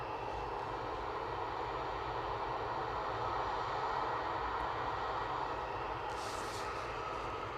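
A jet airliner departing Manchester Airport at sunset gives a steady, distant engine roar and broad rumble that holds level throughout, with no voices.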